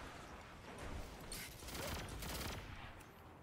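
Disparity pulse rifle in Destiny 2 fired in quick bursts, a faint, busy crackle of clustered shots swelling and fading over a few seconds of match action.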